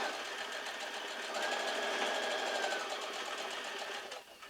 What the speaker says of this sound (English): Now I just sewed over that interlocking there